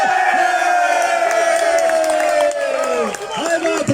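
A loud crowd at the Tolića susreti event in Grude in 2022 cheers and whoops nearby. Sustained shouts and raised voices continue for about four seconds, dipping briefly near the end.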